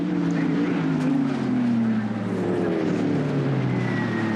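Racing cars, Gerry Marshall leading a Jaguar, lap a British circuit, their engines droning loud and steady with rising and falling pitch as they pass close by, no talk.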